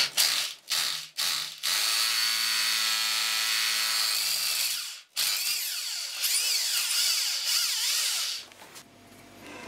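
Electric drill boring a hole in a wall with a 6 mm bit, motor whining up in short bursts then a long sustained grinding run, pausing once before resuming with rough chattering, close and loud.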